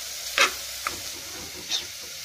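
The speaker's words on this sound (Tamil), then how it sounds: "ஆட் பண்ணி நல்லா ஃப்ரை பண்ணிக்கலாம்." Carrots and pepper fry in a pan for coconut milk pulao: a soft, faint sizzle runs throughout, broken by three brief stirring scrapes.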